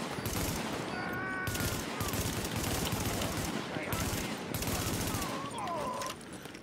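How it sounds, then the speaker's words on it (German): Sustained gunfire in The Division as enemies shoot at supply goods in an urban combat zone, dense overlapping automatic bursts with electronic alert tones layered over the battle, continuous and loud throughout. "Warnung. Ware wird beschossen."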